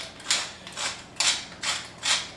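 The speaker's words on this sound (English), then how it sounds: "I'm going to loosen the pepper grinder so it's a little coarse" A pepper grinder being loosened for a coarse grind gives five short, close mechanical creaking bursts, spaced roughly evenly, each rasping and dry, with no voices.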